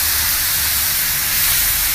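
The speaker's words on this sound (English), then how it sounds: "I kind of pour a little bit of water in here. That'll loosen up. Start steaming those a little bit." Water poured onto a hot Pro90X grill covered with burgers hisses into steam, giving a loud, steady broadband sizzle that holds evenly for two seconds with no talking.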